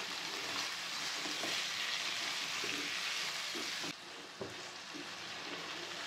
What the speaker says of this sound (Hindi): अब मैं अच्छे से फ्राई कर लेती हूँ